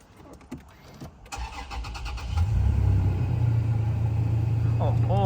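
A flood-damaged 2016 Ferrari California T, rebuilt and started for the first time, cranks briefly before catching and settling into a loud, steady, rumbling idle close by.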